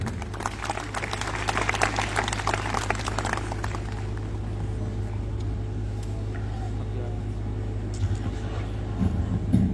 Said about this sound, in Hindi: आप लोग जोरदार तालियों से आमंत्रित करें।